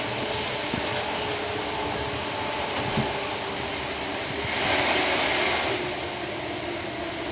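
Steady broadband rumble from inside a Class 320 electric multiple unit on the move, a continuous running drone with faint clicks and a brief swell in the middle, with no talk over it.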